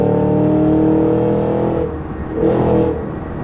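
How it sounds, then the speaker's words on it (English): A Cadillac Escalade V ESV's engine roars loudly and close while driving, dipping briefly and then revving up again before easing off. "it sounds like you're driving a Corvette, but you got a 3-row SUV"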